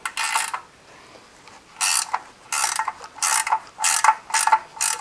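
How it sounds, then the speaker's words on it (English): A ratchet tightens the oil drain plug on a 2021 Mitsubishi Mirage, sounding as six or seven close, loud bursts of rapid clicking separated by short pauses. "And then tighten it back down."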